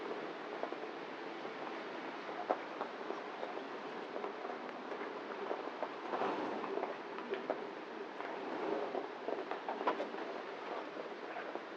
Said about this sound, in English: As the rain poured